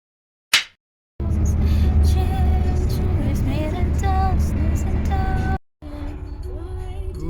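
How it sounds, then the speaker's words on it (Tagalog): Cars pass along a street in Sweden, a steady broad rumble of traffic close by with a short sharp sound before it, a sudden break near the end, and voices talking over the noise. "Uy, traffic man."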